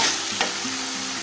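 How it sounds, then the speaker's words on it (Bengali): Ground spices (masala) fry and get stirred in a pan for chicken bhuna khichuri: a brief, close sizzle with a quick scraping stir stroke, no talking. "আমি মশলাটাকে নাড়াচাড়া দিয়ে দেবো"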